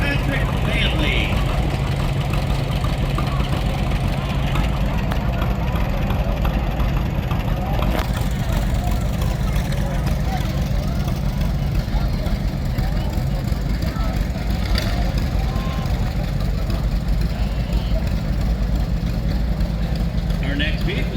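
A Pontiac Trans Am idles steadily at a small-town parade, its low engine rumble continuous beneath crowd chatter and a public-address announcer.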